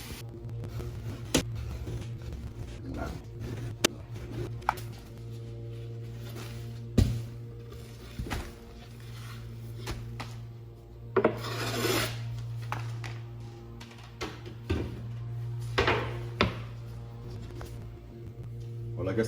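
Utility knife scoring 2 ft by 2 ft drywall patch sheets from Home Depot, a series of short rasping scrapes and scratches over a steady low hum, with a voice talking at times.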